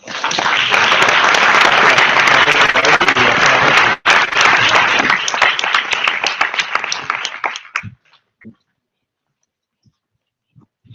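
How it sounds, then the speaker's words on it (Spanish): An audience at a conference breaks into loud, dense applause that holds steady for several seconds, thins into scattered claps and then stops, leaving near silence with a few faint taps. "Vamos a darle un aplauso."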